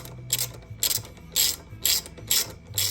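Hand ratchet loosening the front brake caliper bolts on a 1999 Honda Shadow VT1100 Aero motorcycle, six evenly spaced bursts of rapid clicking, close and crisp.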